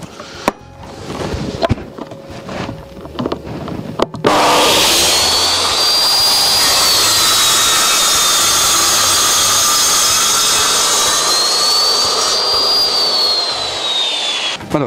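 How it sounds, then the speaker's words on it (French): Old circular saw cutting through a kitchen worktop, starting after a few seconds of handling noises with a sharp spin-up into a loud, sustained roaring whine that holds steady for about ten seconds before winding down. "Ma bonne vieille circulaire, que j'ai depuis, pouf, j'ai l'impression que je l'ai depuis toujours, celle-là."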